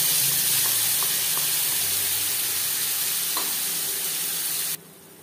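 A spice paste going into hot oil with whole cumin and fried dried red chilli, a loud close hissing sizzle that holds steady for several seconds, with faint stirring taps, then cuts off abruptly. No voices.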